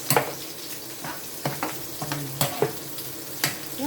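Escabeche sauce being stirred in a pan with salt and magic syrup added: soft scraping and light clinks come at irregular intervals over a faint steady sizzle, close by, with no talking.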